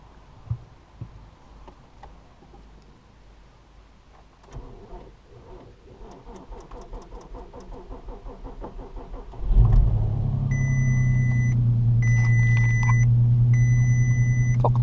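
A Mk5 VW Golf R32 with 73,500 miles cranks after a few seconds of clicks and ticks, then catches and settles into a loud, steady idle, joined by intermittent electronic beeps.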